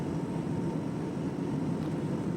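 A passenger airplane in flight, banking into a turn, as heard from inside the cabin: a steady, dense engine and air roar that stays even and constant throughout.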